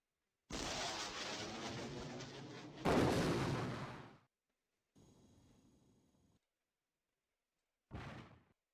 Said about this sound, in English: we're going to do an airstrike on this camp